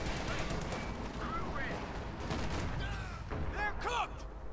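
Heavy gunfire from a .50 caliber machine gun in the real-time strategy game Company of Heroes 2, with dense battle noise and scattered explosions running steadily throughout, while a commentator talks over it.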